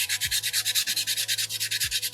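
Soapstone bear carving being sanded by hand with sandpaper: a steady series of rhythmic, close, rasping strokes, roughly eight per second, with a low background hum and no talking.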